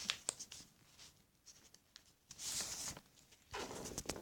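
Sheets of paper being creased and folded into a paper airplane, close-up crinkles, slides and sharp rustling bursts in an irregular rhythm with quiet gaps between, no voices.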